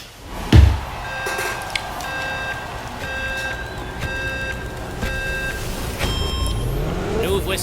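Car from a racing video game revving and cruising, a steady engine drone with a sharp thump early on and repeated electronic beeping tones layered on top, under light talk.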